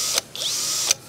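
A Kingblue KM18QE cordless drill runs on a battery adapter with a thin, high motor whine, cut by two or three brief sharp pulses within about a second, close and alone.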